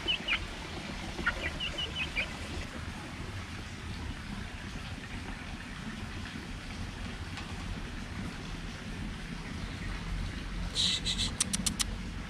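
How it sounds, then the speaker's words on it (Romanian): A chicken clucking at a butterfly park in Bali, faint short clucks scattered over a steady background hiss, with a brighter burst of rapid calls near the end. "O găină."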